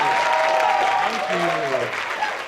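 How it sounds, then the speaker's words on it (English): Audience applause at an improv comedy show, dense clapping under which voices speak and call out, fading slightly toward the end. "get another round of applause for those wonderful audience volunteers"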